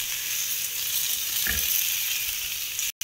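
Dhapate, a Maharashtrian flatbread made with bottle gourd, sizzles and fries steadily on a hot tava griddle, a close continuous hiss with a brief soft clunk midway and a sudden cut near the end.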